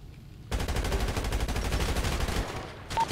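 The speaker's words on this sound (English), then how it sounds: "shots fired" Gunfire in the FivePD police mod video game, a rapid dense burst of shots lasting about two seconds, loud and close, followed by a brief quieter tail with no speech.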